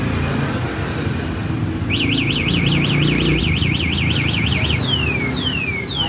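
A Somero Storm Spirit V3i three-wheeled e-bike's anti-theft alarm sounds over steady background rumble, starting partway through with a rapid warbling electronic siren, then switching to repeated descending sweeps.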